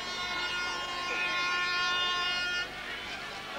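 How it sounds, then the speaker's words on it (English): A siren sounds for three-quarter time at a 1991 country Australian football grand final, a long, steady wailing horn tone that dominates before cutting off near the end, with crowd noise and a commentator's voice underneath. "Siren goes for 3/4 time."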